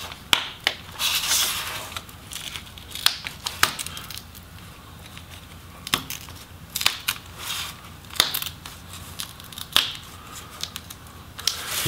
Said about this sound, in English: You can definitely hear the tape peeling as you're lifting the bezel.